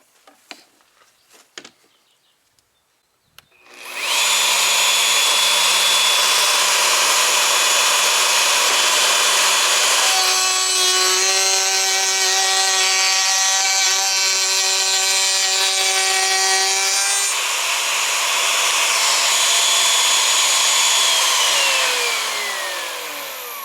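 A Skil RT1322 freehand router spins up and cuts a round-over profile in hardwood at about 22,000 RPM. A steady, loud high whine runs for about twenty seconds, with a deeper tonal shift partway through the pass, then winds down at the end.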